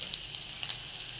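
Onions frying in hot oil with black cumin and dried chili, a steady, fairly soft sizzle with a few brief crackling pops.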